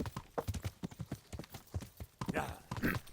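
Rapid, rhythmic hoof clip-clops of a horse trotting in Kingdom Come: Deliverance, crisp and close, with a brief snort and shuffle near the end.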